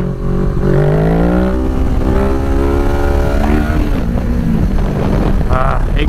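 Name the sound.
Kawasaki Z650 motorcycle accelerating through gears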